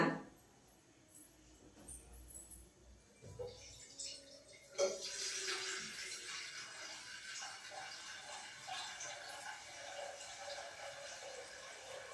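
Water pours in a steady stream into a pot for sambar, starting after some quiet clinks, continuing evenly and fairly faint.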